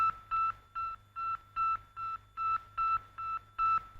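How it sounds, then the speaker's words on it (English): The 1957 Sputnik satellite's radio signal is heard as a steady series of short, evenly spaced electronic beeps, about ten in a row, clear and isolated. "As it orbited, Sputnik transmitted a beep that could be picked up by radio as it passed overhead."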